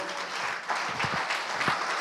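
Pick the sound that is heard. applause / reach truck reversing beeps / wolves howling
applause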